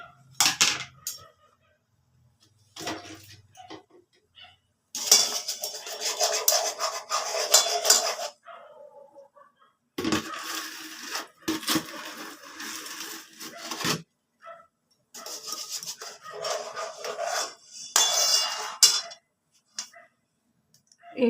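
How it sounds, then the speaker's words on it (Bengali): Milk with nolen gur (date palm jaggery) being stirred in a pot, a spoon scraping and clinking against the metal in repeated bursts with short pauses between them, close and clear, with no talking. "এবার আমি নলেন গুড় দিয়ে দিচ্ছি।"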